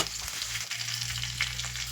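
Cumin, green chilli, ginger-garlic paste, crushed coriander, turmeric, amchur, garam masala and potatoes fry in oil in a kadhai for cutlet stuffing, giving a close, steady sizzle with light stirring scrapes and no talking.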